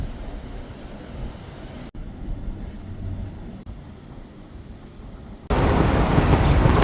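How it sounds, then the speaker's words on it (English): Strong wind near the Texas–New Mexico border on Route 66 buffets the microphone with a low, rumbling roar, interrupted by brief dropouts and then surging louder and harsher near the end. "It is very windy."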